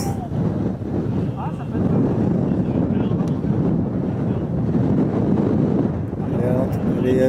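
Wind buffets the microphone on a golf course outdoors, a continuous low roaring rush that swells and holds steady, with people talking over it.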